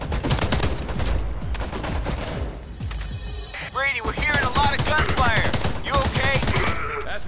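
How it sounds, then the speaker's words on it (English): Rapid gunfire bursts in the video game Homefront, dense cracking shots and fusillades running throughout, loud and close, with voices talking over the battle. "we're hearing a lot of gunfire"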